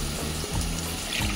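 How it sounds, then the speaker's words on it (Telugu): Water is poured into a pan of cucumber curry as it cooks, a short, close splashing pour lasting just over a second. "ఇప్పుడు మనం ఇంకా ఉడకటానికి నీళ్ళు పోసుకుందాం."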